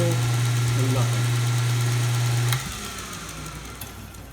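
A Kalamazoo belt sander fitted with an adjustable-angle sharpening rest runs with a steady low motor hum, then drops in level midway as it winds down or loads, with broadband belt noise continuing, close and without talk.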